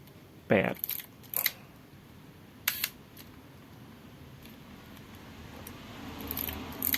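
A Canon QL17 GIII rangefinder film camera fires its shutter several times at different speeds. The crisp mechanical clicks are close and spaced apart, with faint handling noise between them.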